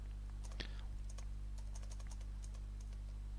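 Quiet computer keyboard typing at a Linux terminal, a scattering of light key clicks over a steady low electrical hum, with one sharper tap near the start.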